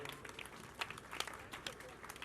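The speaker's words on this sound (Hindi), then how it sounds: "एक बार उनके नाम की जोरदार ताली बजाओ।" Clapping from guests at a devotional bhajan gathering, scattered claps over a low murmur of the crowd, fairly faint and distant.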